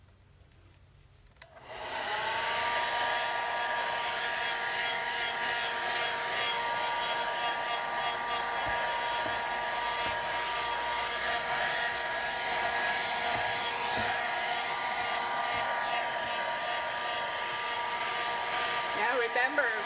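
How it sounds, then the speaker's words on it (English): A hair dryer blows steadily to dry acrylic paint, switching on after a short quiet start and then holding a loud, constant whooshing whine close by for the rest of the span. "Okay, so I'm going to turn the hair dryer on."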